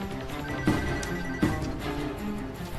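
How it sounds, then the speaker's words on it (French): A telephone rings faintly in short repeated trills against a steady background hum, with no talking. "Appel entrant."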